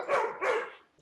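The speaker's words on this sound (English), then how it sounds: "my dogs do this every time they know when we're finishing up" Dogs barking indoors at the close of a conversation, two quick moderately loud barks in succession followed by quiet.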